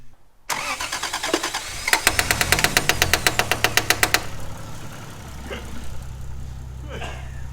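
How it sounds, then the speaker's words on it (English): A Toyota Cressida with a 1JZ engine cranks and catches, followed by a rapid metallic ticking and a steady idle with the power steering pump running. The sound is close and loud. "it actually sounds like the power steering pump has shut up somewhat"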